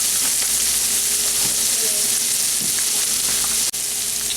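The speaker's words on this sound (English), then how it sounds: "I'm going to add in the garlic. Stir that in." Vegetables frying in a pan for lasagna while minced garlic is stirred in, giving a steady, close, loud sizzle that runs without a break, with a sharp utensil knock near the end.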